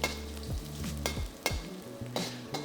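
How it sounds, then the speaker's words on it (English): Garlic and green onion whites fry in oil, sizzling steadily up close while a utensil scrapes and taps against the pan every half second or so. "Put in the garlic and the white parts of the green onions. Fry them for about 30 seconds to 1 minute."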